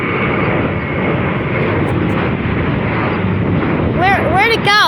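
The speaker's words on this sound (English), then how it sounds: "we got another one taking off" A plane taking off at Chicago Midway (MDW) airport makes a loud, steady engine roar throughout, with people speaking over it near the end.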